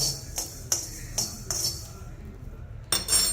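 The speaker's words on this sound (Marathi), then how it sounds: "गॅस बंद करून गरम कढईमध्ये फक्त हलकंसं मोहरी भाजून घेऊया." Mustard seeds are dry-roasted in a hot wok with the gas switched off, heard as a series of sharp metallic clinks and scrapes from stirring, spaced out with brief quieter gaps between them.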